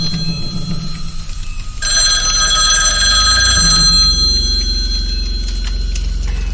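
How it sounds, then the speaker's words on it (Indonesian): An old-style telephone bell shrills loud and close in long sustained bursts, following a quieter stretch with a low hum, ringing on for several seconds without any voices. "telepon kembali berdering untuk yang ketiga kalinya"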